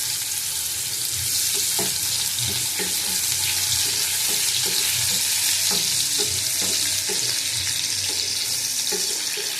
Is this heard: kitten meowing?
no